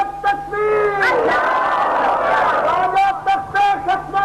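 A large religious gathering roars back a chanted slogan in unison, loud massed voices swelling and holding for several seconds after a leader's call, then breaking into scattered shouts.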